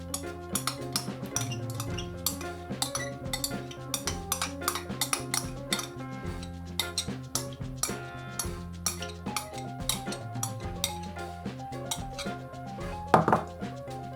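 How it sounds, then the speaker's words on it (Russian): A spoon stirs a dressed seafood salad in a bowl, making a steady run of close, rhythmic clinks and scrapes against the bowl, with one louder knock near the end and no talking. "Хорошо перемешиваем."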